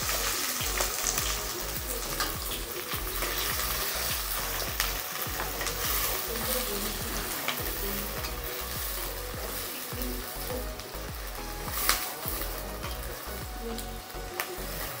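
Onions and green chillies frying in hot oil with mustard seeds, a steady close sizzle with stirring scrapes and small crackles throughout.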